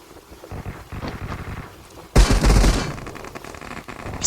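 Rapid bursts of video game gunfire crackle over a low rumble, suddenly louder and denser midway, then trailing off into steady noisy roar.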